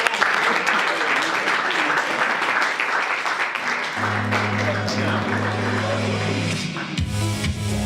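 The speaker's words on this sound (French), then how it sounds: "vous pouvez les applaudir" Audience applause in a student-union campaign debate TV studio, a loud dense wash of clapping that continues while a low steady hum joins partway through, then tapers near the end.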